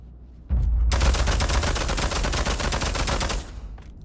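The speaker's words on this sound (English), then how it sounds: "first up we have the PPSH" A PPSh submachine gun fires in the Pavlov shooting game: one loud, sustained automatic burst of rapid, evenly spaced shots lasting about three seconds, then a fading echo.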